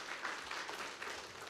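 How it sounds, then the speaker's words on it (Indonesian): An indoor seminar audience in Bandung applauding together, a faint, steady patter of many hands clapping at a distance with no voices over it. "Tepuk tangan dulu buat kita semua."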